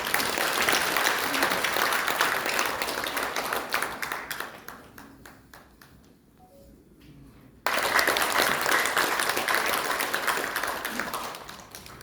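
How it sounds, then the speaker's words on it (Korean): A Korean civic history lecture audience applauds to welcome former Sungkonghoe University professor Kim Myung-ho. The steady, full clapping thins out and fades into a quiet lull, then comes back abruptly at full strength. "큰 박수로 강사님을 모시겠습니다"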